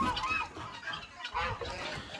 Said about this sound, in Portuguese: Então aqui a gente tem casal de ganso, alguns marrecos.